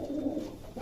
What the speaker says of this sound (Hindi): बहुत शानदार कबूतर है ये, लाजवाब।